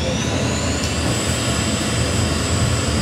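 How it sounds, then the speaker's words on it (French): An F-16 jet engine roars at full throttle during a touch-and-go, a loud, steady, unbroken rumble heard from the cockpit with no speech. "Et vous pouvez remettre plein gaz, on va faire juste un touch."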